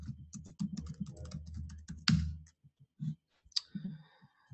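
Rapid clicking of a computer keyboard as a password is typed on a Jenkins server login, a dense burst of keystrokes followed by a few scattered separate taps, close and clear with no talking.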